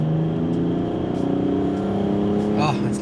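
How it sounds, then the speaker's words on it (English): A BMW E90 pulls hard on a speed run, its engine drone steady and strong from inside the cabin, with a rising whine near the end. "Just a little speed run here."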